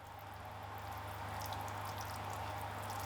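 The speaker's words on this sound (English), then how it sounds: "we'll just drop some water through the soil" Water trickling and dripping steadily through the soil of a potted succulent, a soft continuous wash with faint drips over a low hum, no talking.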